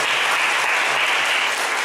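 A church congregation at a Sunday evening service applauding to welcome a guest, a loud, continuous crowd of clapping hands, steady and unbroken from start to finish.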